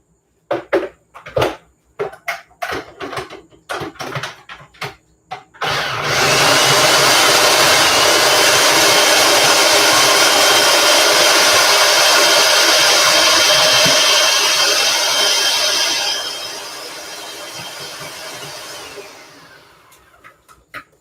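A food processor runs with a loud, steady mechanical whirring for about ten seconds, then winds down, preceded by scattered clunks and knocks.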